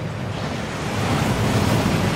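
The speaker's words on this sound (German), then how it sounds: "Der Wasserfall entfernt alle Verzauberungen." A waterfall in Hogwarts Legacy rushes as a loud, steady broadband roar with no break or voices.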